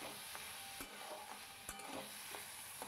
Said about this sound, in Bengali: এইভাবে আস্তে আস্তে গোবিন্দভোগ চালটাকে একটু ভাজা করে নিতে হবে